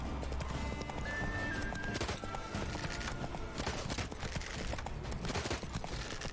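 Roach, Geralt's horse in The Witcher 3: Blood and Wine, clip-clops steadily with rhythmic hoofbeats and a brief whinny, mixed with busy game sound and background music throughout.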